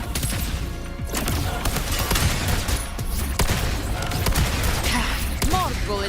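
Gunfire in the action game Wuthering Waves rattles in dense rapid bursts mixed with impacts and crashes, loud and continuous throughout with game effects and voices layered underneath.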